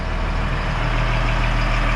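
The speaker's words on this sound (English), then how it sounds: "Now that I've built up pressure by letting the engine run" An LMTV military truck's diesel engine idles at close range, giving a steady, unbroken low rumble with a faint mechanical clatter throughout.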